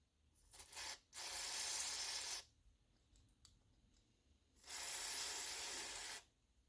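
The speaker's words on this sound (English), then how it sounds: "we'll spray the carb cleaner in the hole, in the center hole" Carb cleaner sprayed into the centre jet hole of a lawnmower carburetor, heard as two long close hissing bursts with short clicks and rubbing in between; faint and without voices.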